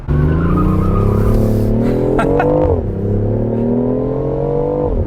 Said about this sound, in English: I U-turned and sort of stepped on it, and it breaks loose a little bit.